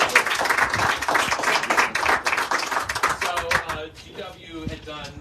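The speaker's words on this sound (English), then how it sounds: "Okay, round of applause." A round of audience applause at a historic preservation awards ceremony, many hands clapping densely and briskly before tapering off into scattered claps.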